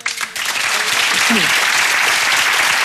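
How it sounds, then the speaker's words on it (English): A television studio audience at a talk show breaks into loud, sustained applause, which swells in quickly after a moment of talk and stays dense and even throughout. "only the girls applauded"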